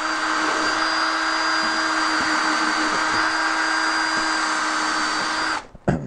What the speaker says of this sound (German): Ganz einfache Bretter angesetzt, kurz gebohrt.